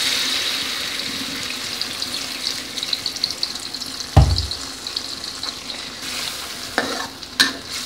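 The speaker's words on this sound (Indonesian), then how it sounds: "Simbo akan menumis bumbu yang sudah dihaluskan Simbo ya teman-teman" Ground spice paste stir-fried in a pan for a Cirebon-style docang, a steady close sizzle with a spoon scraping and stirring, one sharp clack midway and a couple of utensil knocks near the end.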